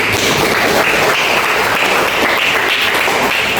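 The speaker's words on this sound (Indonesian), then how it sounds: "tepuk tangan teman-teman" Classmates applaud in a classroom, a steady, dense clatter of many hands clapping close by, sustained throughout without pause.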